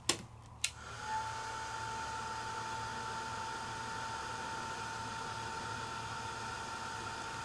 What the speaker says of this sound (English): Heat tool.